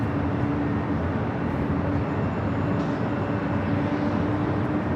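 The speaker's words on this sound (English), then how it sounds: "up next, the Emirates A380 Super." An Emirates Airbus A380 at LAX airport, heard as a steady broadband roar of jet engines at moderate distance, even and unbroken throughout.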